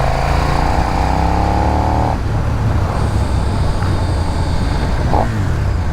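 A 2022 KTM 1290 Super Duke R naked motorcycle engine pulls hard under acceleration, a loud steady roar rising in pitch, then shifting and continuing with wind noise while riding.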